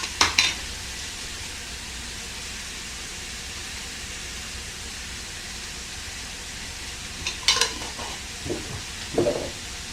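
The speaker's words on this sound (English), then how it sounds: "One more stir." Vegetables sizzle in a pan with a steady, hissing fry throughout, broken by a brief stir at the start and a few scraping stirs near the end.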